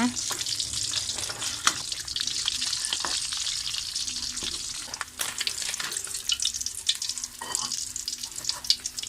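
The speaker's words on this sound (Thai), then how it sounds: "ทอดปลาทูอยู่นะคะ" Steady crackling sizzle of mackerel frying in hot oil, close up, with scattered pops and a few clinks, no voices.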